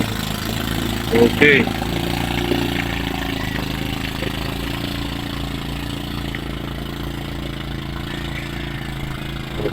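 An engine runs at a steady, moderate idle for the whole stretch, with a brief voice heard early on.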